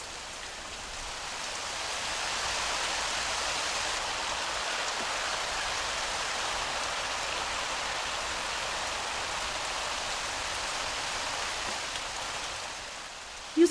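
Steady rain falls in an even, soft hiss that holds unbroken throughout, with no voices.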